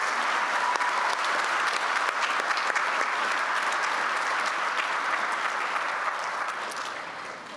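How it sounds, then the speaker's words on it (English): Sustained audience applause fills a college commencement hall at Blue Ridge Community College's fall 2023 ceremony: dense, steady clapping from a large crowd that holds level, then tapers off softly at the end. "Let's give these outstanding faculty and staff a round of applause"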